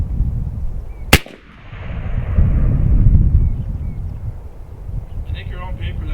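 A single sharp crack from an AEA Challenger Pro .30 caliber PCP air rifle firing a slug outdoors, loud and close, followed by wind noise and background rumble.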